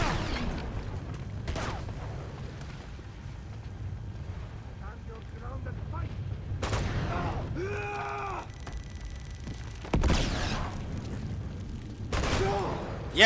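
Several grenade explosions in Uncharted 2 burst out one after another, each a sudden broad blast that trails off, set against a low rumbling backdrop with faint chimes from the game.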